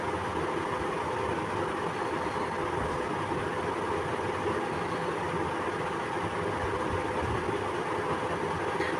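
A sewing machine runs steadily, stitching along a folded petticoat waistband, with a continuous mechanical whir and rattle lasting the whole stretch and no voices.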